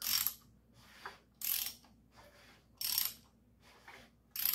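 An assembled small-block Chevy V8 for a 1951 Chevy truck is turned over by hand, with four evenly spaced mechanical ratcheting bursts and quiet gaps between them, close and clear.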